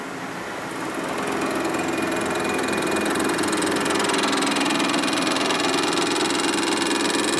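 A loud, steady mechanical grinding and whirring of a machine cutting metal for a big-bore Harley shovelhead engine build, droning continuously throughout with no voices.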